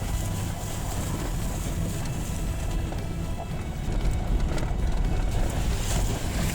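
A car drives through the shallow river Arton in the Altai mountains, giving a steady, loud rush of splashing water and engine noise with no pauses.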